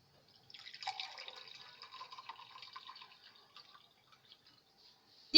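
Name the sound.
pouring blood leaf tonic into a glass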